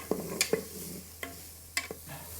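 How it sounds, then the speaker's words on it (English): Shallots, a cinnamon stick and star anise stir-fried in a pot for braised beef noodles, giving a few scattered scraping and clattering stirs over a faint sizzle, with no talk. "We'll fry until we can smell the beautiful fragrance from the ingredients."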